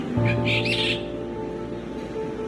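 A brahminy starling gives a short burst of chirpy, warbling calls over a steady low hum, then falls silent.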